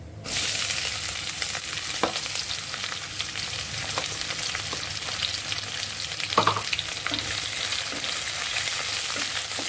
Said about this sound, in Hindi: प्याज को लाइट ब्राउन होने तक भूनेंगे।